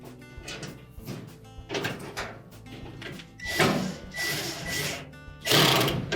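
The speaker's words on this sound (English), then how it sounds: "So we'll next install that single screw at the back." A single hex-head screw is driven into a GE dryer motor mount during blower wheel replacement, giving intermittent scraping and clattering bursts of varying loudness, close up, with no speech.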